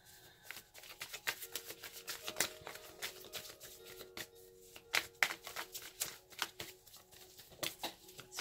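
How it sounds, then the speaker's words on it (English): Tarot cards are shuffled in quick, irregular bursts of crisp riffling and slapping, close and fairly quiet, with no voice. "And after a good shuffle, when a card pops out, that's my signal."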